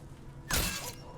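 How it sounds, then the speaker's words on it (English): Glass shatters in the video game Dishonored 2 with one sudden loud crash that sprays into a bright tinkling scatter, then decays over about half a second above a low background hum. "Except for like the shattering glass."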